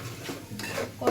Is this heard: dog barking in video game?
no